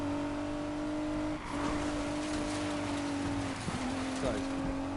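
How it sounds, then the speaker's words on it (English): A car in the Need for Speed Payback video game firing its nitrous boost through a tunnel, a sustained loud engine drone with steady tonal whine and brief shifts, under faint talk. "Love hitting the nitrous when I'm going through a tunnel."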